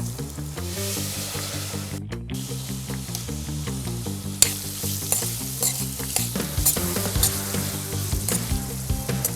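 Prawns fry in a pan of oil for a chicken and prawn biryani, giving a continuous crackling sizzle with stirring clatter, set against steady background music.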